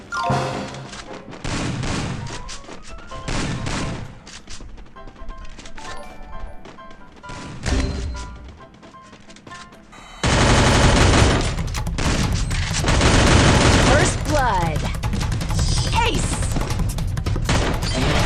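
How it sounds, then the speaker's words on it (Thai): Rapid bursts of video game gunfire crackle nonstop, broken by heavy blasts, with a dense, loud barrage of shots and explosions erupting in the second half. "ระเบิดระเบิดระเบิด"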